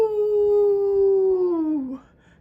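A single sustained coyote howl, loud and close, holds a steady pitch for nearly two seconds before sliding down and breaking off, with no talking over it.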